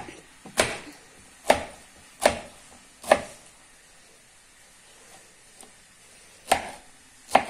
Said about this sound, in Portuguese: Vamos picar bem fininho para que ele fique cozido ali